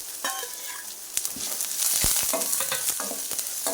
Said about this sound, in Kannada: ಎಣ್ಣೆ ಬಿಸಿ ಆದಮೇಲೆ ಸಾಸಿವೆ, ಹಸಿಮೆಣಸು ಒಂದೆರಡು, ಆಮೇಲೆ ಈರುಳ್ಳಿ ಒಂದು ಸಣ್ಣಗೆ ಹೆಚ್ಚಿದ್ದು.